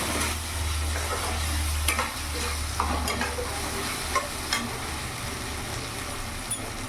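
A ginger, garlic and chili paste is stirred into a jackfruit and shrimp dish frying in oil, with a continuous loud sizzle and occasional scraping strokes of a spoon throughout, no voices.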